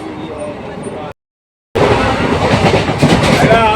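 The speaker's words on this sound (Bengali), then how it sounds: "আজ আমরা চলেছি হাজারদুয়ারি এক্সপ্রেসে বহরমপুর কোর্ট স্টেশন থেকে কলকাতা স্টেশন" Hazarduari Express (13114) train running from Berhampore Court toward Kolkata, a steady loud rumble and clatter of the carriages heard from onboard, broken by a brief cut to silence before resuming strongly.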